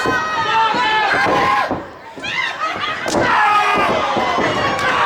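A loud, crazy crowd at a live throw-down contest roars and shouts continuously with dense overlapping voices, dipping briefly mid-way before swelling again, punctuated by occasional thuds.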